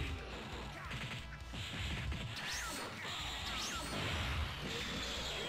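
Smash attacks land in a Dragon Ball fighting game, loud crashing impacts and swooshing strikes piling up in a dense, continuous stream of game effects.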